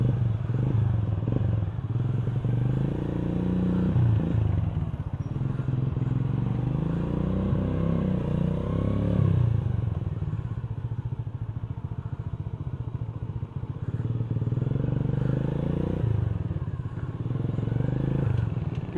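Motorcycle engine idling and moving slowly while being parked in hot weather, a close, steady low rumble with rises and dips in revs and some clattery mechanical noise throughout.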